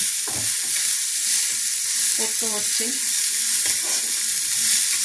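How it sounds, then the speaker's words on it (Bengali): Steady hiss of spices frying in a hot pan for chicken paratha, continuous sizzle throughout, with someone speaking briefly over it. "এবার এর মধ্যে একটু ভাজা ভাজা হোক"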